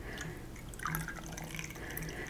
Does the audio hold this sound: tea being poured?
yes